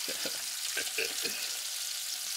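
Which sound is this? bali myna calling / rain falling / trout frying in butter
trout frying in butter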